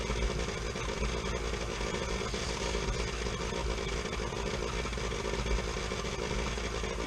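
An electric mixer whirs steadily as it blends cherry cheesecake filling, running close and loud without pause for the whole stretch.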